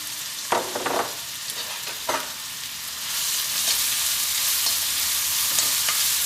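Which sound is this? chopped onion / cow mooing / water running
chopped onion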